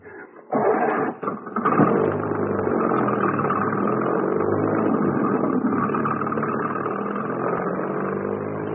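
An old car's engine runs steadily as it heads down a hill, a continuous mid-pitched drone after a brief start, fairly close and alone.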